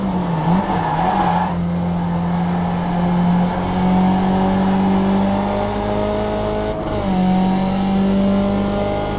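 Race car in the iRacing sim at Watkins Glen brakes hard and drops toward second gear: a loud, steady engine drone whose pitch falls, jumps with a downshift blip near the end, then settles, heard from inside the car without talk.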